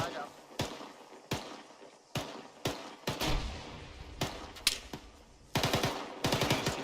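Bursts of ArmA III gunfire crack out in sharp, repeated shots and rapid volleys, some close and loud, others quicker and clustered, with muffled voices talking over the fighting in between.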